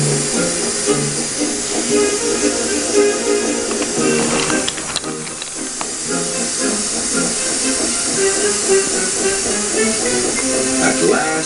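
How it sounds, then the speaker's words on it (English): Steam engine Toby, working hard with a fiercely burning fire, pushes a diesel and freight cars back over frozen mud, puffing and hissing steadily with wheel slip, loud and close over a busy music-and-effects bed. "With much puffing and wheel slip, Toby pushed Mavis and the freight cars back"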